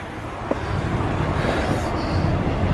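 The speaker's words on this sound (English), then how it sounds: "There's a train going past." A train rumbles past near the old Southern Region Basingstoke engine shed site, a steady broadband roar that holds at fairly loud level throughout with no talk over it.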